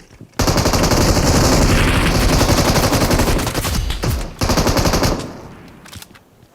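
Automatic gunfire in the BGMI battle royale mobile game, a long loud sustained burst of rapid shots, then a short pause and a second burst that tapers off, with no talk over it.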